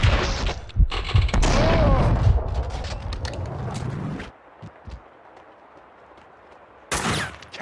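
Gunfire from the video game Max Payne 2: loud, dense bursts of shots and booms crowd the first four seconds over a low rumble, then it quiets to faint ambience before another sharp loud burst near the end.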